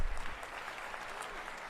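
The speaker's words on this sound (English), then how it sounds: "How about another quick round of applause for Mayor Bibb?" Applause from an audience at a city's State of the City address, a steady wash of clapping that fades slightly after an initial burst and continues evenly throughout.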